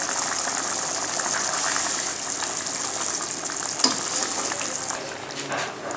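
Lahori chikar cholay, chickpeas simmering in a pan, give a steady loud frying sizzle that holds throughout, with a small clink near the end.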